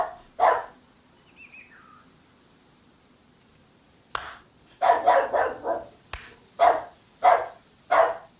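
A dog barks close and loud, with one bark early, then a quick run of six or seven sharp barks after a pause, and a faint bird-like chirp in between.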